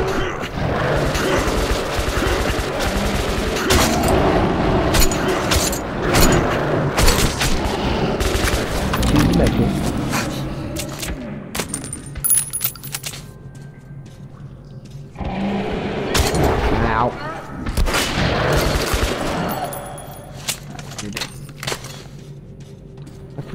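AK rifle fire in the video game Metro Last Light comes as loud, close bursts of rapid automatic shots, with heavy volleys early on and more bursts later, some echoing booms between them.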